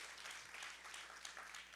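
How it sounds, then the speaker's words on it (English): A keynote conversation audience gives a round of applause, a soft, distant, continuous patter of clapping at low level. "round of applause for that"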